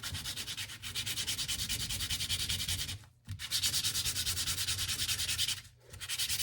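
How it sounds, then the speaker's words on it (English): A part's bottom is sanded by hand on sandpaper fixed to an MDF board to dull its shine: fast, rhythmic back-and-forth rasping strokes, close and steady, broken by two brief pauses. "I need to sand the bottom of those just a little bit to kill the shine"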